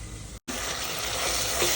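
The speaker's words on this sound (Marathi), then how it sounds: "आता टोमॅटो टाकला आहे आता हे पण सगळं व्यवस्थित फ्राय होऊ द्यायचं" Masala with onion, curry leaves and freshly added tomato frying in a pan makes a loud, continuous hissing sizzle, broken by a brief cut, then steady and close.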